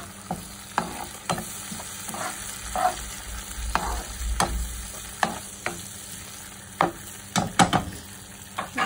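Mixed vegetables with a little milk stirred and frying in a pan, a steady sizzle broken by repeated sharp scraping clicks of a spoon against the pan, close and without talk.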